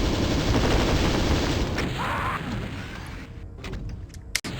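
Rapid continuous weapon fire from a Doom 2 plasma rifle during a fight on the Alien Vendetta map Whispering Shadows, a dense stream of shots that thins out near the end, followed by a sharp single crack.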